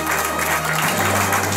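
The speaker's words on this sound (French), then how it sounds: "Et on applaudit tout le monde." An audience applauds at a festival prize giving, a full, steady round of clapping, loud and close, sustained throughout without a break.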